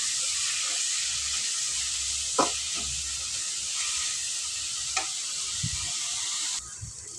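Curry leaves hit a frying pan while a mushroom kurma is being cooked, giving a steady broad hiss of sizzling oil with a few sharp crackles and light clinks, and no talking.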